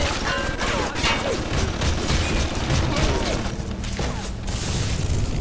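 Turret gunfire in the video game BioShock, a dense, loud, continuous burst of rapid shots and impacts filling the whole stretch, with a faint voice underneath.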